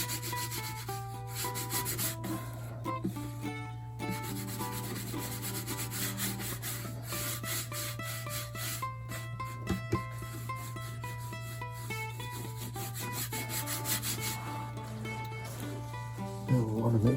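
Cloth steadily rubbing finish into the wooden body of an old mandolin, a soft continuous friction close by over a steady low hum, with occasional light knocks.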